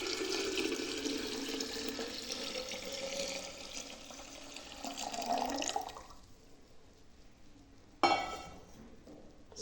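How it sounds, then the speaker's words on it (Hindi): Lukewarm water is poured into a kanji vada mixture with a continuous gurgling, splashing flow that fades out, then a brief splash, heard close and fairly quiet. "और अब मैं डाल देती हूँ इसके अंदर पानी"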